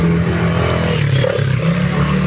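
Motorcycles ridden by young riders pass on a rainy road, a continuous loud engine drone with revving and clatter held steady throughout, no voices.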